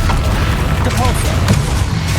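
A Depulso push spell fired in the Hogwarts Legacy boss fight with Ranrok lands as a booming magical blast, with short thuds and a brief warbling tone midway over dense, loud combat rumble.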